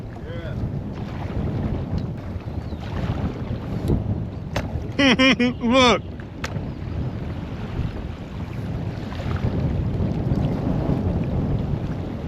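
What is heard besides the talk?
strong wind while kayaking on a river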